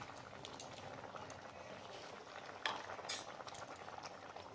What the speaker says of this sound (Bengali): ভালো করে ফুটে গেছে